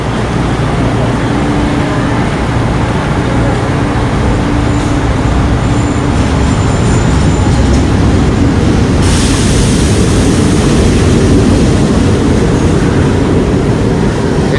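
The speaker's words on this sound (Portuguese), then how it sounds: "E esses aqui são os trens, então, do sistema de metrô aqui de Recife" Recife metro train run by CBTU, heard as a steady, loud rumbling roar of rail cars at a station, with constant broadband noise that grows slightly brighter partway through and no talking.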